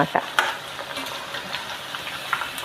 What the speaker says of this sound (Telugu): చూసారా ములక్కాడలు ఇలా వేగితే సరిపోతుంది